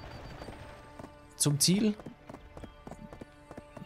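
Steady clip-clop of a mule's hooves in Black Desert Online, a soft rhythmic trot of light repeated strikes, briefly covered by someone speaking German.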